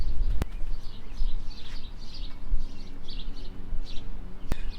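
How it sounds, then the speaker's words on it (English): Small bird chirps repeat in short bursts across an outdoor concrete job site, set against steady background noise with a couple of sharp clicks. "What is that, a bird?"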